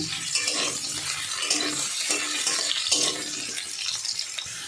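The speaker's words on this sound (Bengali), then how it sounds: "আলুটা বেশ আমি একটু লাল লাল করে ভাজবো।" Potatoes frying in oil in a pan, heard as a steady, close hiss and spatter with occasional light stirring and utensil scrapes.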